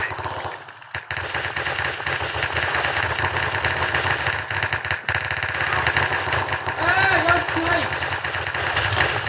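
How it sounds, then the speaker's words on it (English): Gunfire from a shootout on a bridge in a cops-and-criminals video game, with loud, sustained rapid automatic bursts close by, a brief lull near the start, and an engine-like hum underneath. "We had a shootout on the bridge"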